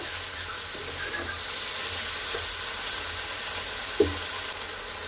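Steady, hissing sizzle of chicken frying with capsicum and onion in a pan, with faint stirring and a single knock of a spoon near the end.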